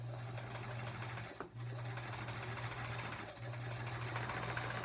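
A sewing machine hums in a fast, steady motor rhythm while free motion quilting feathers on a sampler quilt, close and loud, pausing briefly twice before starting again.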